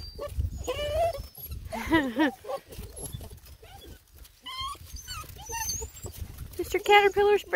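Coonhound puppies whimper and yip in a run of high, wavering cries and short squeaks, close by and fairly loud, while a person talks softly in the background.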